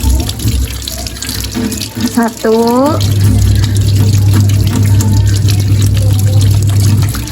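Running tap water splashes steadily into a sink for rinsing, a continuous close gush that starts a few seconds in, while a voice counts aloud over it.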